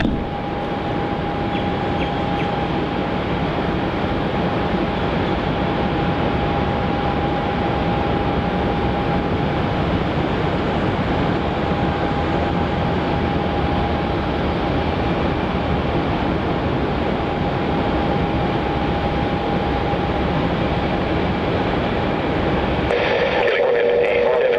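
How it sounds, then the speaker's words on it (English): A Virgin Australia Boeing 737 rolls for takeoff on runway 27 at Melbourne Airport, a loud, steady jet roar with a thin sustained whine that holds for the whole stretch, heard at some distance. "we've got that Virgin Australia 737 departure off runway 27,"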